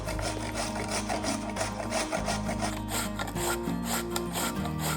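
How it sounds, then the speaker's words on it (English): Raw potatoes are rubbed against a grater in a continuous rapid scraping rhythm, close and steady, with a low hum running underneath throughout. "I'm going to start grating my raw potatoes."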